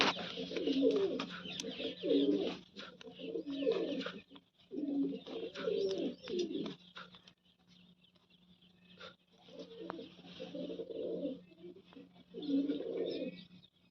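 Pigeons coo in repeated soft, throaty phrases, several bursts separated by short pauses, fairly close in a quiet loft.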